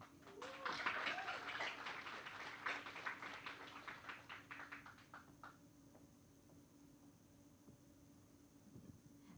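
An audience applauds to welcome moderator Sara Wayne, a TV presenter. The clapping is quiet and sounds distant, with a crackling patter that thins out and fades after a few seconds.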